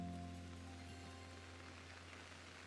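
Steady rain hiss in a Pokemon video game, a soft continuous wash of falling drops under low sustained tones, quiet and even throughout with no voices.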